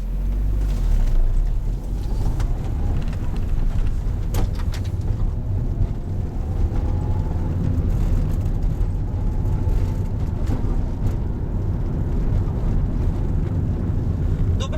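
A 1998 Renault Kangoo 1.4 with 75 hp pulls away and drives on, heard from inside the cabin as a steady low engine rumble and road noise with occasional clicks and knocks.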